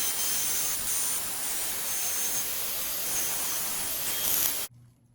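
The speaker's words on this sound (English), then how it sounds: "I'm just going to turn on the spindle and manually jog it through the wood and see what happens." A small homemade CNC mill's spindle cuts into soft wood as it is jogged by hand, giving a constant loud, hissing whine that holds steady and then stops abruptly near the end.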